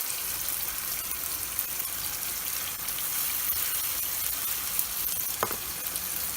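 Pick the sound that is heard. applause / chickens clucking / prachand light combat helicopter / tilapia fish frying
tilapia fish frying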